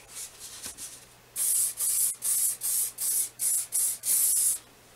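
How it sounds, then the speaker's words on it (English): An aerosol hairspray hisses in eight short bursts, each about a third of a second, close by and loud, after a quieter shuffle. "we have to spray, and I'm using hairspray as always."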